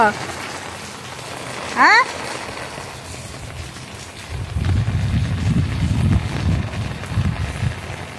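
Rain patters steadily outdoors, a close, dense hiss that grows heavier and louder in the second half, with a brief high chirping call near the start.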